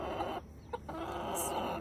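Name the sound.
hens and roosters clucking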